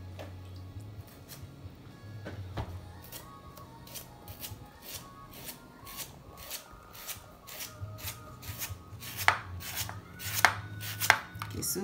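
Knife slicing ingredients for khao poon on a cutting board, a steady run of crisp, evenly spaced cuts close by that speed up into a quick rhythmic series, with no talk.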